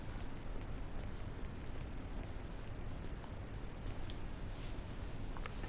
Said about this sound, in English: It's that fucking cricket again.